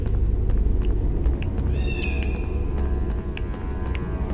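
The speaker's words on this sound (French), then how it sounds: "Moi, je n'arrive pas à le voir, mais je l'entends miauler en bas." A kitten in the Harry Potter PS1 game gives a single clear meow in the middle, heard over a loud low rumbling background.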